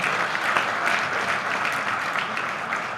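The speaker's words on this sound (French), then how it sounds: "je vous demande d'applaudir encore une fois" Audience at a Haitian public event applauding four women electoral councillors, a steady, dense wash of clapping from a large crowd that holds at an even level for about three seconds.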